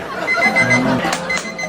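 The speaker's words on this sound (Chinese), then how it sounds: "这小玩意儿是闹钟。" A dumbbell-shaped alarm clock rings in a short, loud, electronic chirping burst at close range, with beeping tones repeating quickly.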